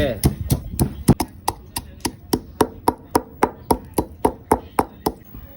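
Spices and aromatics for a pork-head marinade are chopped or pounded into fine bits, producing about sixteen sharp, evenly spaced strikes in a steady, brisk rhythm that sound loud and close.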